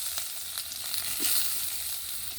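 Chopped onion sizzling in hot oil in a pan on the stove, a steady close frying hiss with a few soft crackles and light stirring, no voices.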